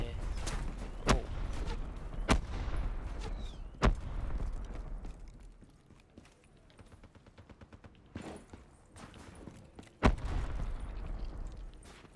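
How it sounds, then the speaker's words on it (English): Explosions and gunfire crack through a Call of Duty Black Ops team deathmatch, with several sharp blasts spaced a few seconds apart over a constant rumble of battle noise. "Why is there so many explosions going on everywhere?"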